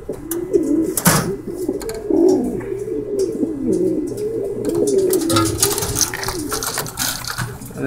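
Pigeons coo nearby in a low, continuous murmur, broken by sharp clattering and scraping knocks, including a loud thump early on.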